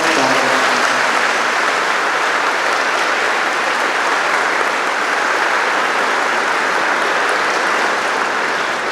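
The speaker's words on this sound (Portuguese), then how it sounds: "receba a nossa sincera curva, uma salva de palmas." A church congregation at a Chrism Mass in a parish in Alfenas gives loud, dense, sustained applause that fills the whole stretch without any break.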